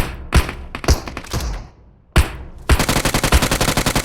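Gunfire from a shooter video game, set among apartment blocks: separate heavy single shots and short bursts, followed by a rapid, evenly spaced automatic burst. The shots are loud and close, with no talk over them.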